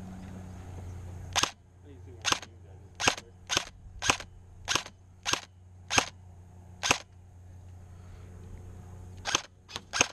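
Airsoft guns firing at an outdoor skirmish event, a run of about a dozen sharp, snappy shots spaced roughly every half second to second, fairly close, with a short pause before a last quick burst.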